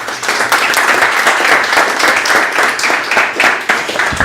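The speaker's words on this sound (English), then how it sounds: "Big applause for him." Audience applause after a question session at a Couchbase and Spring Boot tech talk, dense sustained clapping from a room of people, loud and steady throughout.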